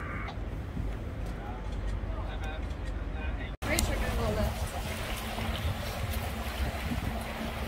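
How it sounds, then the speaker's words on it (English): A boat on an Amsterdam canal produces a steady low engine rumble with wind and water wash, heard close, while people talk intermittently over it. "we're on a boat"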